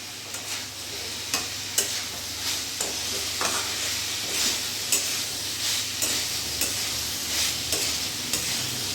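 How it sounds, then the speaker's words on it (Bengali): Fish and fig curry with fried potatoes and shingi fish being stirred in a pan over a gas flame: a steady sizzling hiss with repeated scraping strokes of the spoon, close and continuous. "এবার ভালো করে মিশিয়ে নেব গ্যাসের ফ্লেমটা একটু বাড়িয়ে দেবো"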